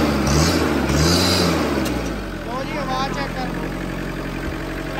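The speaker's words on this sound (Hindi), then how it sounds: "35 हॉर्स पावर का इंजन। आवाज़ चेक कर लो रे इधर" A Farmtrac Atom 35 tractor with a 35 hp engine idles nearby, a low steady rumble running under someone talking.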